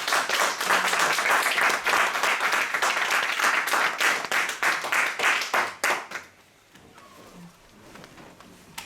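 A church congregation claps and applauds loudly in a dense, sustained burst for several seconds, then it breaks off abruptly into near quiet with a few faint sounds.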